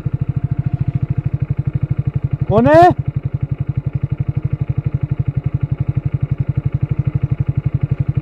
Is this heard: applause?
no